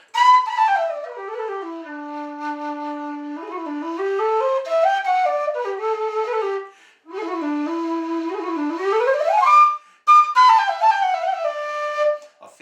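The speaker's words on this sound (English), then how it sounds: "So when we go on to the Kerry Pro, I've built into my whistles what I didn't really get out of the Overton." A Kerry Pro tin whistle plays a clear melodic phrase of sliding and stepped notes, close and alone, with two short pauses for breath.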